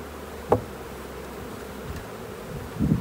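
A honeybee swarm recovered from a shrub being settled into a hive, heard as a faint, steady insect hum under quiet background noise, with a brief knock near the start and a soft rustle at the end.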